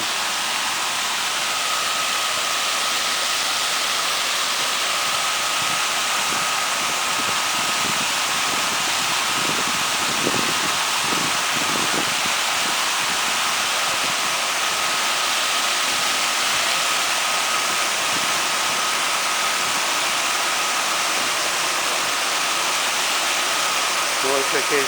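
Continuous rushing roar of hot factory outflow water pouring and splashing into a river in Illintsi district, Ukraine, loud and steady throughout, with faint voices barely audible beneath it.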